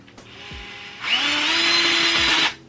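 Power screwdriver driving a screw during flat-pack furniture assembly: a faint whir at first, then a loud, steady motor whine for about a second and a half that stops abruptly, with no talking.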